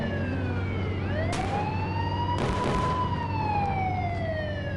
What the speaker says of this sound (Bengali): এখানে একটা পুলিশের গাড়ি আসছে